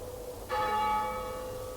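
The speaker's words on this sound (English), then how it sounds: "It's the bell. Someone's in the church." A single church bell strikes once with a sharp onset and then rings on, its bright tone slowly decaying in a quiet setting.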